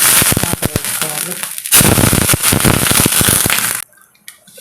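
Water poured onto a hot, lightly oiled pan for a pearl millet dosa makes a loud, crackling sizzle in bursts, easing briefly and then hissing on strongly before stopping abruptly near the end.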